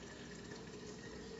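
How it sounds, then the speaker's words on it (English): Coffee pours steadily into quart-sized jars, a brief continuous liquid rush with a bright splashy fill and no talking. "I'm just pouring it into the quart-sized jars"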